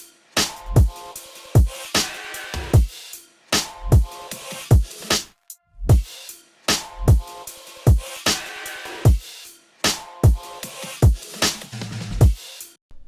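Full electronic percussion mix with punchy kicks, snappy hits and bright shuffling hats in a steady repeating groove, a low tonal fill near the end, moderately loud with no voices.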